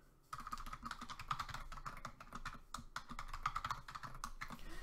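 Quick, irregular keystrokes on a computer keyboard as an email address and password are entered, a close, crisp run of clicks after a brief quiet start, with no talking.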